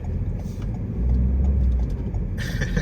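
A car rumbles past on a suburban road in the Hybla Valley area of Alexandria, Virginia, its engine noise swelling to a peak midway and then giving way to a brighter whoosh as it goes by.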